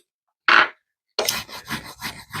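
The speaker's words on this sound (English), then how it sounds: "Try to burnish this onto the transfer tape." Small scraper burnishing vinyl onto transfer tape, first one short firm scrape, then after a pause a run of quick rubbing strokes, close and clear.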